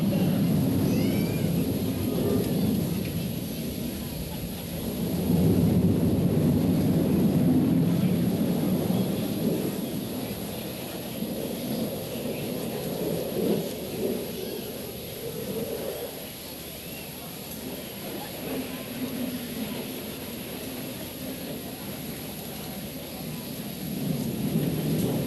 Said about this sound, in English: characteristics of the Fighting Falcon by performing a 4-point roll as he passes show center